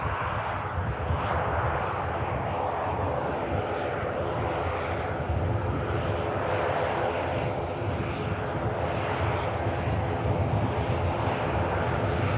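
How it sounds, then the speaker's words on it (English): An Aer Lingus ATR turboprop lands at Manchester Airport, its engine roar steady and loud across the whole stretch, a broad continuous rumble with no voices over it. "First Aer Lingus ATR touchdown, and another one just behind as well."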